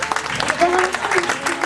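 A congregation at a church vigil in Paris applauds during a crowning, a brief burst of dense clapping mixed with voices and cheers, fairly close and loud.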